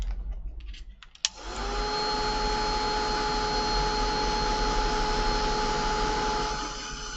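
A heat tool switches on after a brief clatter and blows a steady, loud whirring hiss to dry a craft project, holding an even tone for several seconds before easing slightly at the end.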